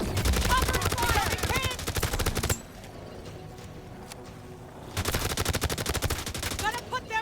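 Rapid automatic gunfire in the video game Division Resurgence, loud and dense bursts at the start and end separated by a quieter stretch of ambient combat noise.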